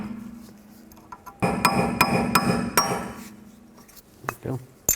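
A small chisel struck with a hammer works a rear hub cap off a 2006-2010 Volkswagen Jetta, sounding as a handful of sharp metallic taps close by, followed by a ringing clink and a final faint knock.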